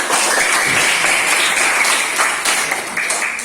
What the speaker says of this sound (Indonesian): Tepuk tangan untuk Mbak Tasya.